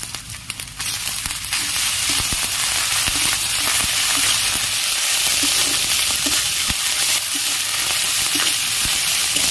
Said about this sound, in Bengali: এবারে আদা রসুন বাটা দিয়ে দেবো